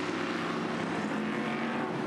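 Formula 5000 race cars going past at Pukekohe on a form-up lap, a continuous broad engine roar at middling distance, steady and fairly faint throughout with no voices.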